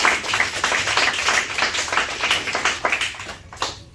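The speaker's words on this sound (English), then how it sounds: "So please let's give them a big round of applause." An audience at a youth and culture event claps together in a steady round of applause, dense and fairly close, tapering off toward the end.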